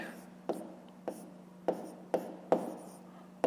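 A pen writes numbers by hand in steady short strokes, each one a small scratch about every half second, close up, under a voice.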